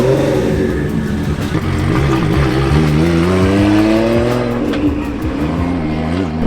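A Toyota Supra drift car at a Drift Masters event revs hard, its engine note rising and falling in sweeping waves, loud and close, with faint tire squeal under the roar and no voices.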